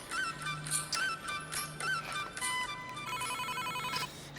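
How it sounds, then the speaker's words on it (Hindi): A telephone rings on an outgoing call, a repeating ringback tone in even bursts, fairly loud and clear with no talking over it. "मैं ना अपन जानू तेरे फोन लगा लेता हूँ।"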